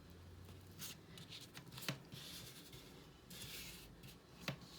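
Paper being folded and creased by hand to make an accordion book, soft rustles and sliding strokes with a couple of sharper crease presses, very quiet and close.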